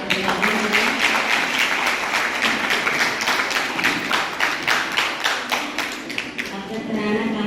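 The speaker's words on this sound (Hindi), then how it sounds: "आज के अतिथिगणों से सभी का जोरदार तालियों से" Loud, rhythmic group applause welcomes guests at a school annual sports meet and prize distribution, claps pulsing together in a steady beat that fades slightly toward the end.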